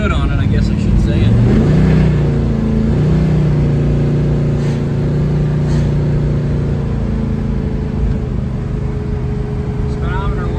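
A 1970 Chevrelle car accelerating on the highway, its engine rising in pitch early on, then settling into a loud, steady cabin roar of engine and road noise.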